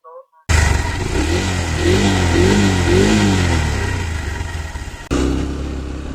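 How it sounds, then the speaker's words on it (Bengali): A car engine and exhaust running on Total Energies engine oil rev up and down in repeated rising and falling sweeps, loud and close, cutting out briefly before roaring on again. "তো আসুন এখন দেখাই আমার গাড়ির যে এক্সস্টের সাউন্ড, ইঞ্জিনের যে সাউন্ড, সেটার এখন কি অবস্থা।"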